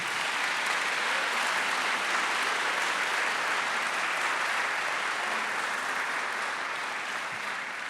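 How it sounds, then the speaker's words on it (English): Sustained applause from a school district audience honoring teachers, dense and steady, filling the room for the full duration with no break. "let's give a round of applause to anybody who's a teacher"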